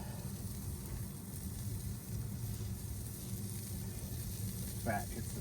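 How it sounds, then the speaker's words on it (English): Kefta kabobs sizzle steadily on a charcoal grill, a continuous close crackling hiss with a brief flare of spitting near the end. "Watch them sizzle."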